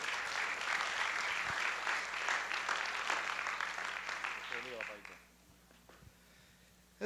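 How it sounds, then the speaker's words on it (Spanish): Warm welcoming applause from an audience, dense clapping that carries for about five seconds, then drops off abruptly to near silence with a few stray claps and faint voices. "vamos a recibir con un cariñoso aplauso"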